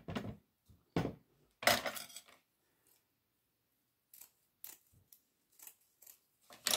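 Scissors snipping a small piece of jute, a few crisp cuts in short bursts separated by quiet pauses, close and fairly soft, with no talking.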